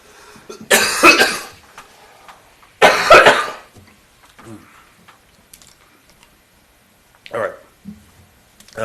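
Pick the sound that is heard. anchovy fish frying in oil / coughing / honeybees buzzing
coughing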